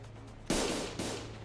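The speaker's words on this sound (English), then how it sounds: "A loud explosion left Don Quixote dismembered where she stood." Explosion in the video game Limbus Company: a sudden sharp loud blast that decays over half a second, followed by a second smaller burst, alone without voices.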